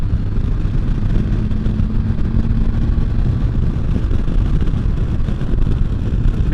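A 2015 Can-Am Spyder F3 engine pulls steadily under a gentle throttle roll-on during a ride, a continuous low rumble with wind noise that holds at an even, loud level throughout.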